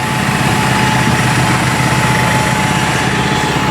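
Massey Ferguson tractor engine running steadily nearby, a loud continuous diesel drone with a constant rumble and no talking.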